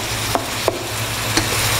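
Food browns in a pot for homemade chicken noodle soup, giving a steady, even sizzle throughout with three brief, sharp utensil clicks spaced through it.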